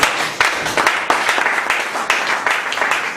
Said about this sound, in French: Put your hands together. applaudissons pour le Seigneur.